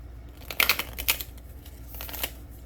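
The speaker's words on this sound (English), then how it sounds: "Let's pull a couple additional cards for you." Tarot cards pulled from a deck and shuffled, a few quick close crisp flicks and rustles in short bursts, without talking.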